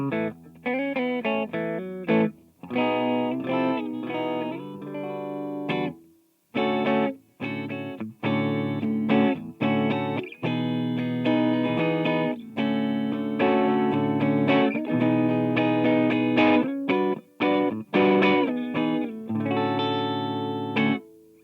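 A distorted Gibson Les Paul electric guitar plays chords and riffs in steady bursts, with a wide, washy digital hall reverb tail hanging behind the notes.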